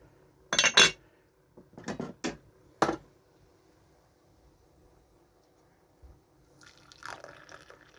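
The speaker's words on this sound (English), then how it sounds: "We shall give the tea a stir in the pot." A spoon clinks and stirs tea inside the pot of a 1974 Goblin Teasmade 855, a few close, bright ceramic taps followed by a faint liquid swirl in a quiet room.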